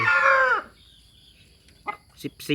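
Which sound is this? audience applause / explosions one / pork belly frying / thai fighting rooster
thai fighting rooster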